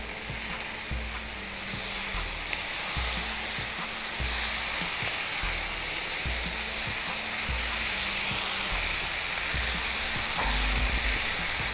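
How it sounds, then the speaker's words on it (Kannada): Masala for gobi manchuria frying in a pan with tomato ketchup being mixed in, a loud, continuous sizzle close up with the scrape and knock of a spatula stirring throughout, and no voices. "ಇವಾಗ ಮಸಾಲೆ ಚೆನ್ನಾಗಿ ಫ್ರೈ ಆಗಿದೆ, ಅದ್ರ ಜೊತೆ ಇವಾಗ ಎಲ್ಲವನ್ನು ಮಿಕ್ಸಪ್ ಮಾಡುವ."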